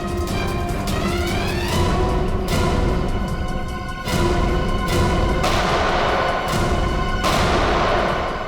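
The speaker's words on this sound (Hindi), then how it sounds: "वहां से चल रही है गोलियां" Gunfire in a TV crime show shootout: a series of loud, sharp gunshots with ringing, echoing tails, several separate blasts spaced over the clip with no talk.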